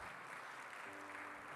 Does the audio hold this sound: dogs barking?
no